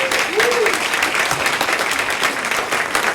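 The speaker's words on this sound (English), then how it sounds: "Let's go ahead and give you a round of applause." An audience at a district candidate forum claps steadily for the whole stretch, a dense, sustained wash of many hands in a hall, with a brief voice rising over it near the start.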